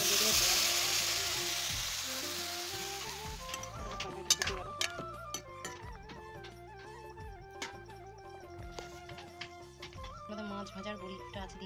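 Fish frying in a pan, a steady sizzle that is loudest at the start and eases into softer crackling, with scattered ticks and clinks and musical tones running underneath throughout.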